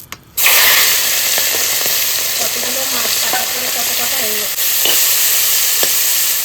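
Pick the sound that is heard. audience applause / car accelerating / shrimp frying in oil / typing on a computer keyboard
shrimp frying in oil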